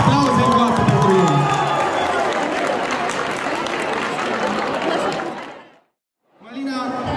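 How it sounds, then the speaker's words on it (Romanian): Crowd at a school freshman ball applauds and cheers a dance couple after their scores, a dense loud roar of clapping and voices that fades out, then a voice speaks after a brief silence. "Aplauze în coastă pentru ei!"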